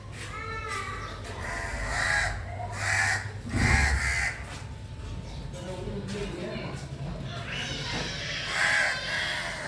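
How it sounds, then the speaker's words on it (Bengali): Several loud, harsh crow caws ring out close by in short bursts, with voices murmuring in the background. "কাকও চলে এসছে।"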